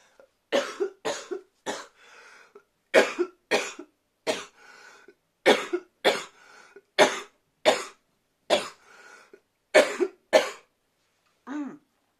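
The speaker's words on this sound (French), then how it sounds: "Tu tousses" Repeated dry coughing, about a dozen sharp close bursts spaced roughly a second apart in an otherwise quiet room, with a few short breaths between them.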